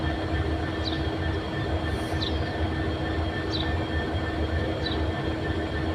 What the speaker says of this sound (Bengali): তো ভাইজান 6 নম্বর প্ল্যাটফর্মে দেওয়া আছে নীলসাগর ট্রেনখানি।